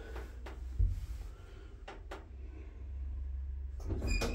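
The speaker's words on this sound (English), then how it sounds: "Doors opening." Sliding doors of a 2007 LTR lift, slightly modernised by Orona, at a railway station platform: a low mechanical rumble with a bump as the doors start, a few light clicks, then steady motor hum and a clunk near the end.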